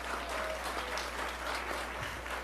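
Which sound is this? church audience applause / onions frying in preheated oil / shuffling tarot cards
church audience applause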